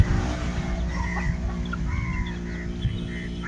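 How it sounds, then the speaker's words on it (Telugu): Country chickens at a farm selling native poultry cluck and call in short bursts over a steady low background hum. "అన్ని రకాల కోళ్ళు అయితే ఉన్నాయి"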